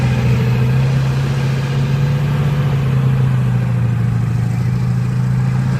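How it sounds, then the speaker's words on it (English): A tank powered by an R975 radial aeroplane engine runs at a steady idle, with a deep low throb and a continuous rumbling drone, loud and close, at a military show. "I think we've got the aeroplane engine in the back of that one"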